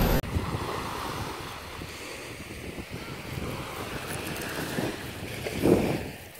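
Waves wash steadily onto a beach in Spain with wind buffeting the microphone, a louder surge breaking near the end; no voices.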